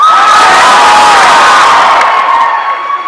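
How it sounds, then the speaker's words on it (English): A large convention audience at a Comic-Con panel with JJ Abrams and Joss Whedon cheers and whoops loudly with applause, a dense, bright roar that stays strong throughout and eases slightly at the end. "Maybe we should just save the applause for the end."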